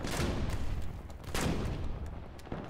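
Gunfire from the War Thunder combat game: two or three sharp, booming shots land in quick succession over a dense rumbling battle background, loud and close with no voice over them.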